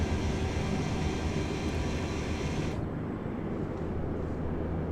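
Airliner sitting on the ramp during pushback in a flight simulator at Dubai, a steady loud roar of running engines and airflow that drops abruptly partway through to a softer hum.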